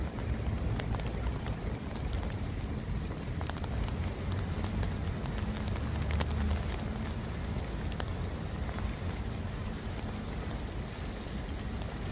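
Rain falls steadily as a continuous, even hiss with scattered faint patters, moderately quiet and unbroken throughout.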